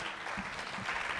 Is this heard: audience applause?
yes